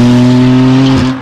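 A car fitted with a Borla Polyphonic Harmonizer exhaust holds a loud, steady, smooth multi-tone note for about a second, then it drops off abruptly as the revs fall.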